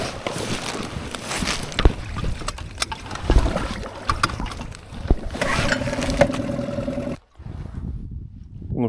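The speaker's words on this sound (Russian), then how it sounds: "И можно запускать мотор." An outboard boat motor on a shallow river in February starts up with clattering knocks, then runs with a steady droning hum close by, briefly cutting out near the end.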